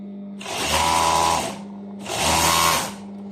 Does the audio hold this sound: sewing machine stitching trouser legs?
yes